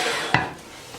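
Metal pots are shifted across a kitchen stovetop while cooking sarson da saag, giving one sharp clank near the start and a faint second knock at the end over a soft background hiss.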